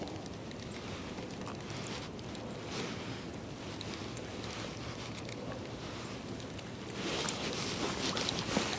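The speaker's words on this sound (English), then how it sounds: "Here comes the wind." Wind blowing outdoors, likely by open water, makes a steady broadband rush with gusty buffeting against the microphone that swells louder near the end, with no talk.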